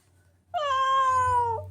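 A cat gives a single clear, drawn-out meow, close and fairly loud, over a faint low background hum.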